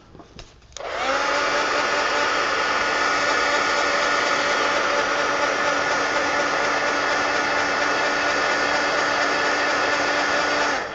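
A hair dryer drying a coloring page switches on after a few clicks and then blows with a loud, steady, close whir for about ten seconds, alone.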